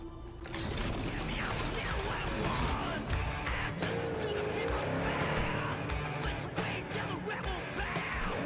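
Car driving in Cyberpunk 2077: Phantom Liberty, a steady engine drone with tire noise running throughout, partly under speech and game sounds.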